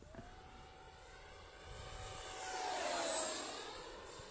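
A HobbyKing Viper 64mm 6S electric ducted-fan RC jet makes a full-speed pass. Its high, faint whine climbs and swells as it approaches, then the pitch drops as it flies off into the distance. No voices are heard.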